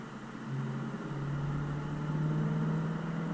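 A 2022 Chevrolet Corvette Stingray C8 Z51 in Z mode on the road gives a steady, moderately loud engine drone that swells slightly as it pulls, heard from inside the cabin with no talking.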